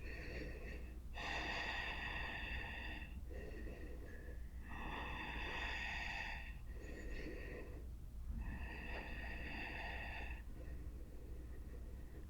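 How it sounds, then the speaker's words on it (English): Slow, deep breathing held in a yoga pose: three long, audible inhale-exhale cycles, close and steady, each breath drawn out over a few seconds. "Those deep breaths really do help."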